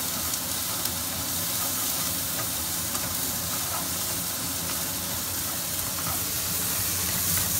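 Pumpkin pieces fry in olive oil in a pan, a steady, dense sizzle and hiss that holds evenly loud throughout with no voices.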